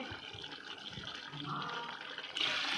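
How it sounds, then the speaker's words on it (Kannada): Water pours steadily into a pot of half-cooked chicken biryani, the splashing rising in pitch and getting louder toward the end as the level builds. "ನಾನು ಆರೂವರೆ ಲೋಟ ನೀರು ಹಾಕ್ತೀನಿ"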